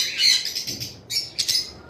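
A breeding pair of albino red-eyed Fischer's lovebirds in a bird shop gives sharp, high chirps and squawks in two quick bursts, close and fairly loud with a short pause between.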